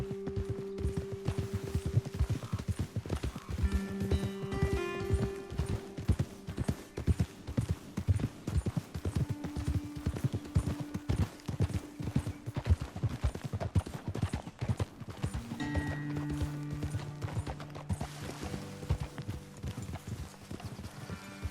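Rapid, rhythmic clip-clop of horse hooves trotting in Red Dead Redemption 2, loud and close, continuing steadily throughout with a low tonal hum in the background.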